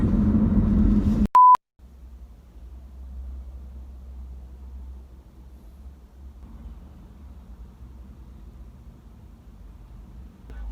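A single brief electronic beep at a telephone, then a steady low line hum while a call to a fabric factory waits to connect, with no ring cadence clearly evident.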